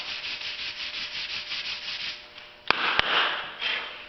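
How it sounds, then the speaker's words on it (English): Body filler on a Jeep Commander fender flare being sanded by hand, a steady scratchy rubbing in repeated strokes that runs close and continuous, broken by two sharp knocks near the end. "When you sand, you want to cross sand diagonal one way, diagonal the opposite way 90 degrees to that"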